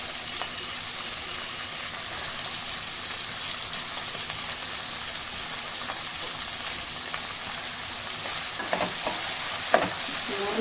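Tomatoes sautéing in a pan for Chettinad puli kari, a soft, steady sizzle with light stirring scrapes, a few sharper clicks near the end, and no voices.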